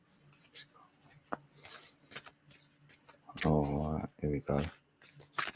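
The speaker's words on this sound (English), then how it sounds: "I like the sound of the shuffling." Tarot cards shuffled by hand, a soft papery riffling and rubbing that runs in short bursts, with a person talking over the latter part.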